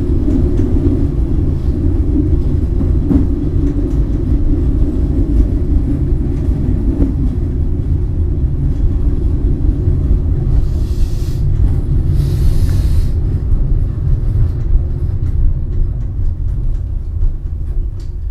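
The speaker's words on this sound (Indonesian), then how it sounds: "ini kereta api Tawang Alun yang saya naiki masuk di jalur 2" Tawang Alun passenger train pulling into Kalisat station on track 2, a loud steady low rumble of wheels and engine running throughout, close by, with brief hissing bursts midway.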